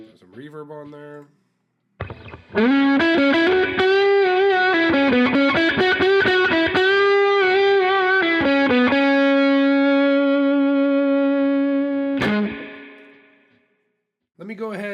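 Electric guitar through a digitally modelled amplifier with reverb in Logic, playing a sustained melodic phrase with a long ringing tail, loud and close, preceded and followed by brief bits of notes.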